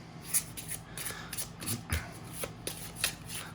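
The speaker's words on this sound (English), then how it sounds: "Just give this a bit of a shuffle, and then I will draw 5 cards." Arkham Horror LCG cards being shuffled in a steady run of soft riffling flutters and light slaps, close and fairly quiet, with no talk over it.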